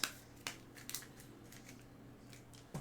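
A deck of board game cards is handled and shuffled quietly, making a few crisp clicks and soft snaps spread irregularly over a hushed background.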